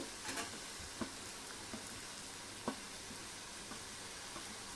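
Chopped onion and a small tomato fry in a pan with a quiet, steady sizzle and a few faint pops and crackles throughout.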